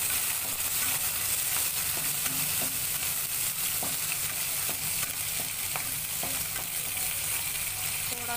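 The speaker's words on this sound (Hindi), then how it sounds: "थोड़ा सा भून लेंगे प्याज को।" Onions frying in a pan for poha, a steady close sizzle with faint crackles throughout and no voices.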